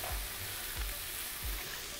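Shrimp marinade with white wine sizzles steadily in a frying pan set beside shrimp grilling over coals, a continuous close hiss with a few soft low knocks.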